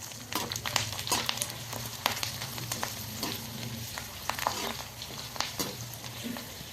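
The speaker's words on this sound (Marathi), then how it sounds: "त्याला तळून दाखवते तुम्हाला." Fasting-style chakli snacks fry in hot oil with a soft, constant sizzle broken by scattered crackles and pops, fairly close but quiet.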